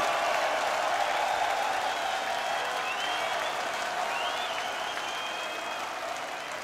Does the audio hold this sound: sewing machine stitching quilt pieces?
no